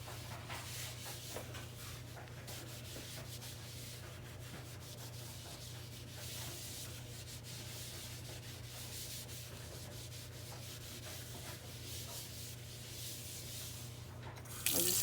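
A small homemade scrubber rubs briskly against a kitchen sink drain in steady, close scratchy strokes, with a low constant hum underneath and no talking.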